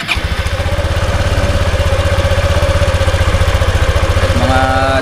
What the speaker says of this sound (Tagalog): Painitin ko muna saglit itong aking motor.